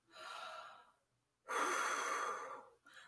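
Deep breathing during a morning warm-up exercise: two long, close, airy breaths separated by a short pause, the second stronger and longer, followed by the start of a third.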